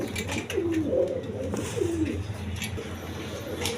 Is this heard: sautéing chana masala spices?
no